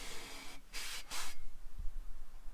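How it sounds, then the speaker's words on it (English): Two short hissing bursts from an aerosol degreaser spray can used on a Honda Prelude, close and fairly loud, separated by a brief pause, followed by faint low thumps. "I'm probably going to spray it one more time with the degreaser"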